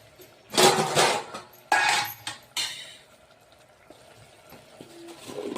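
Spoon scraping and clinking in a pan as ingredients are stirred together, a few loud strokes early on that fade into softer stirring and a faint background hum.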